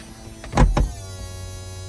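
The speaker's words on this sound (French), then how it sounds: "Donc capote électrique." Electric soft top closing on a 2012 Chevrolet Camaro V8 convertible: a short whirring motor burst in two quick pulses, close and clear, then a low steady hum.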